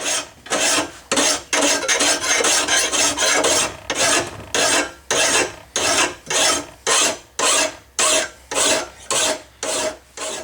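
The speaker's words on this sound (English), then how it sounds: "you do want it snug enough so that you can run the file across it." A flat sharpening steel rasps across a Cub Cadet 33-inch wide area mower blade in steady, evenly spaced strokes, loud and close, about fifteen passes with no talking.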